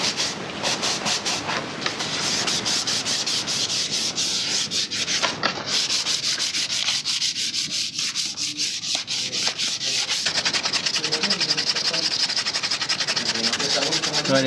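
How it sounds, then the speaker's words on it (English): Steady, rhythmic rasping of sandpaper rubbed back and forth over hard plastic motorcycle fairings, close and continuous throughout. "first time sanding fairings"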